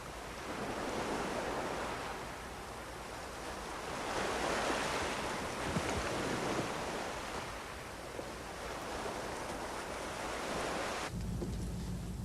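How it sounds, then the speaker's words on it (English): Waves break on a Prince William Sound shoreline fouled by the Valdez oil spill, a continuous rolling surf wash swelling and easing, with wind rumbling across the microphone and no other sounds. "dead silence, and the waves breaking"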